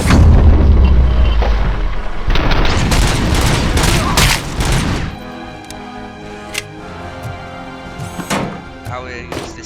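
Loud bursts of gunfire in the Robocop Rogue City video game, rapid repeated shots and booms dominating the first half, then sparser impacts and clanks over game ambience.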